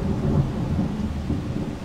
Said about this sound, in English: I'd rather thunder sound like that than the big booms.